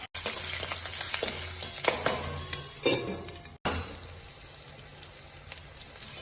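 Chana dal, urad dal, green chillies and curry leaves sizzle in hot oil for a vegetable poha tempering, a loud steady crackle with clinks and stirring, easing after a brief cut.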